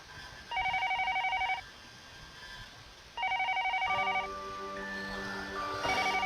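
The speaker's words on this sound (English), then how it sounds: "The phone downstairs starts to ring." A telephone rings downstairs in the video game Higurashi, with two bursts of rapid electronic trilling separated by a pause as a soft sustained music tone begins underneath.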